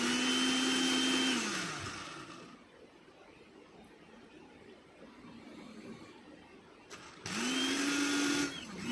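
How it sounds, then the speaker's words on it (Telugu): An electric mixer grinder jar pulsed to grind spices for garlic karam powder: a loud, high whirring motor burst that spins down, a quieter pause, then a second pulse starting up near the end. "మనం ముందుగా మిక్సీ జార్లో ఒకసారి గ్రైండ్ చేసుకోవాలి ఒక టూ టు త్రీ పల్సెస్ ఇచ్చామంటే మనకి మంచిగా గ్రైండ్ అవుతుందండి"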